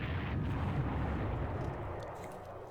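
Bombing explosion in the World War II strategy game Panzer Corps, Operation Sealion, a loud sustained low rumble that fades slowly over a few seconds, with no talk.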